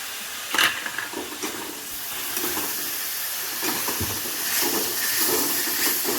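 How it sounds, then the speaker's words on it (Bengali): Ginger-garlic paste hits hot oil in a frying pan for potol korma, with a sharp splatter at first that settles into a continuous close hiss and sizzle. A faint stir follows, and no one speaks. "এবার আমি দিয়ে দেবো আদা আর রসুন যে পেস্ট করে রেখেছিলাম সেটা"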